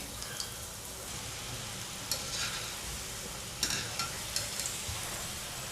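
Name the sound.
wheat flour modak frying in oil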